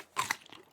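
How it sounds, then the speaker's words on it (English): Crunchy chewing from eating a meal in the survival game Raft, two sharp bites followed by softer munching, close and brief with no talking. "Eating some meals."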